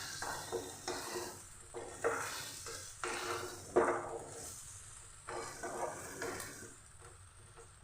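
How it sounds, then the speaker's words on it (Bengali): Vegetables for oats khichdi, cooked without onion or garlic, sautéed with salt in a pan, with repeated scraping stirs against a soft steady sizzle, close and moderately loud. "লবণ দিয়ে খুব ভালো করে সবজিটা আমি কষিয়ে নেব।"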